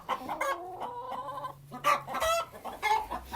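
Hens and a rooster on a farm, kept under extra lighting to encourage laying, cluck and call in short bursts, loud and close, with no talking.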